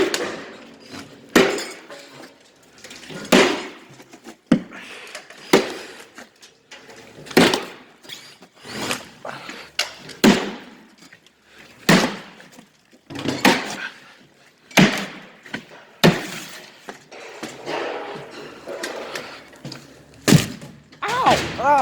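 Repeated heavy blows as an indoor drywall wall is demolished, a steady series of loud thuds and cracking impacts with crumbling debris, roughly one hit every second or two, close and forceful.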